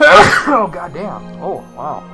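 A single loud, close sneeze bursts out at the start, followed by a man's brief exclamations.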